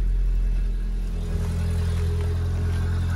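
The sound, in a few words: 1997 Volkswagen Golf Estate engine running after starting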